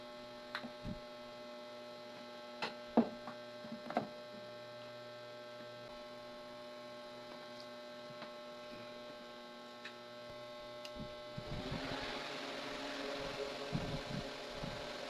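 A small 12-volt electric fan running: a steady, quiet electrical hum with a tonal whine, scattered light clicks and taps, and a slightly louder, rougher whir in the final few seconds.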